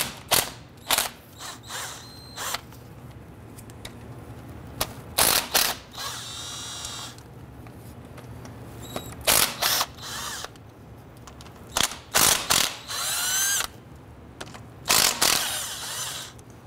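Ratchet working on the rear axle bolts of a 1994-2004 Ford Mustang, with repeated short bursts of sharp mechanical clicking and whirring separated by brief pauses, close and fairly loud over a low background hum.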